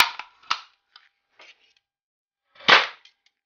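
A Daisy Model 25 BB gun fired at a bottle cap, with sharp snapping cracks: a few clicks early on, then one louder crisp shot, heard close with no speech.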